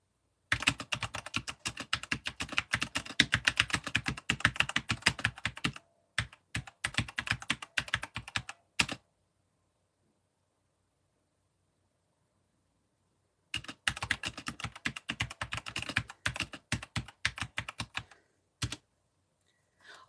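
Rapid clattering keystrokes on a computer keyboard, typed in dense close-up bursts that break off into several seconds of silence before resuming, with a few isolated key taps near the end.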